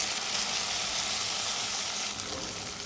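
Green peas tipped into a pan of rice and masala frying in oil set off a steady, close, loud sizzle that continues throughout and eases a little toward the end.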